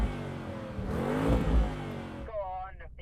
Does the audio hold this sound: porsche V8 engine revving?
yes